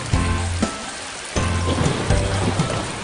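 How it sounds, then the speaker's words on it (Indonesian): Steady rain pours down, hissing across surfaces in a dense, constant wash, broken by a brief dip in the downpour before it picks up again. "Musim hujan pun akhirnya tiba."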